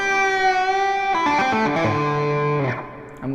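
A pentatonic rock lick on a distorted electric guitar opens on one long held note, then rushes into a quick flurry of notes that slide downward and fade, loud and close with no voices.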